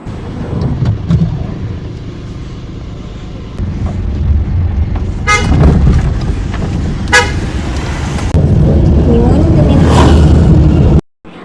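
A car turns around on an open road, its engine running steadily with a few short horn toots, close by and under people talking.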